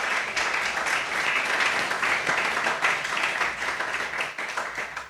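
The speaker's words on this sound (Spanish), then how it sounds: "¿Y por qué no le da un fuerte aplauso a Jesús en esta mañana?" A church congregation gives a strong round of applause during a Sunday morning sermon, a steady wash of many hands clapping at moderate loudness throughout.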